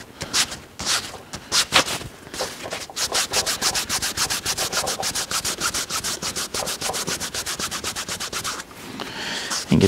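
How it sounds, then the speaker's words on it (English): Leather holster edges being burnished with canvas cloth: a close, steady run of quick, rhythmic rubbing strokes, dry and scratchy, with no talking. "just get some burnishing agent on the edges here"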